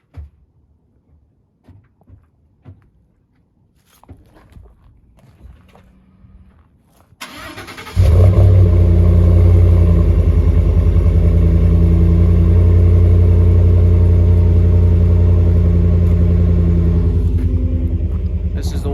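A 2015 Ford F150 with the 5.0 V8 and a Black Widow Venom 250 exhaust cranks and fires after a few faint clicks and rustles, then settles into a loud, deep, steady rumbling idle that runs to the end.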